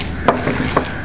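Whole coriander and pomegranate seeds are worked by hand into raw chapli kebab mixture, giving a few soft, moist squishing and stirring pulses close by.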